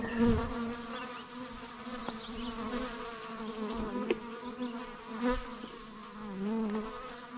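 Honeybees buzz close by in a steady, harmonic drone that rises and dips as individual insects move nearer and farther, with a few sharp clicks along the way.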